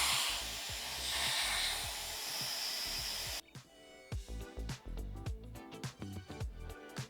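A Dyson Airwrap blow-drying hair gives a loud, steady airy hiss that cuts off abruptly, leaving brief handling knocks and rustles, with no voices.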